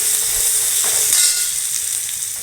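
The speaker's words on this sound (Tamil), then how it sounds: "தக்காளி போட்டு வதக்கிறேன் வெள்ளைப்பூண்டு போட்டுக்கிறேன்" Tomatoes and garlic sauté in a hot pan for chow chow paal kari, a loud, steady sizzle with a hissing wash and a few soft stirring scrapes throughout.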